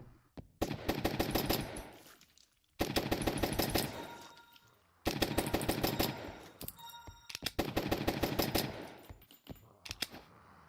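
Rapid automatic gunfire from a multi-barrel weapon in the Zombiehood run-and-gun roguelite, four loud sustained bursts of about two seconds each, with short gaps between them.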